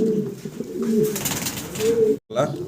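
Fancy pigeons in a cage coo in low, repeated throaty rolls, fairly close, while someone talks over them.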